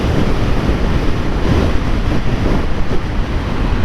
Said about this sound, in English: I'm having to lean forward to counteract the wind blasts.